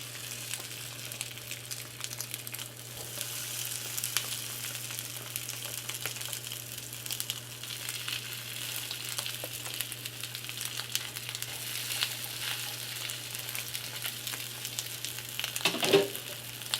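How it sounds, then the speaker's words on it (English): Crab cakes sizzle steadily in a skillet preheated to medium, a constant crackling hiss with a low hum underneath and no talking. "Let's get to frying. Preheat your skillet."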